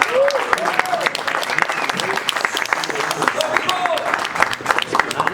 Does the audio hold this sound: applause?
yes